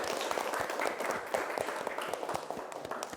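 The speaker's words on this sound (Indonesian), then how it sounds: "kita kasih aplaus untuk kelompok 1" A classroom group claps for presenters, a dense, steady round of applause from many hands that fills the whole stretch at moderate volume, with no voices over it.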